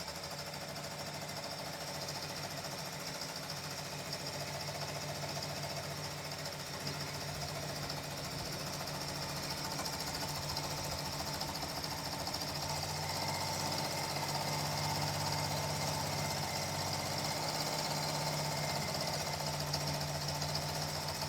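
An embroidery machine stitching a design onto a bath towel runs at a steady rapid mechanical chatter with a constant motor hum, unbroken and close throughout, with no talking.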